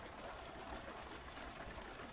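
Steady rain falls over Loch Rannoch in Scotland at sunset, droplets landing on the water's surface and on a roof in an even, soft, continuous patter with no voices.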